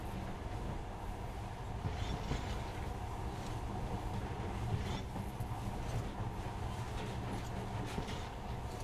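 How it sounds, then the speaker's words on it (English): A monorail train runs steadily in the video game Metro Last Light, a continuous low rumble with faint rail clatter, fairly quiet and without voices. "In the past, trains were ordinary things, but now, this monorail seems magic, doesn't it?"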